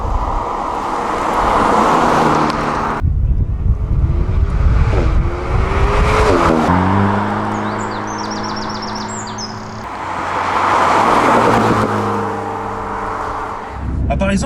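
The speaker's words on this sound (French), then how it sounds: "là je suis en mode normal, la voiture fait pas beaucoup de bruit, elle crapote pas" An Alpine A110 S sports car cruises in normal driving mode with a moderate engine hum and road noise, rising and falling as it shifts through gears, while people talk over it.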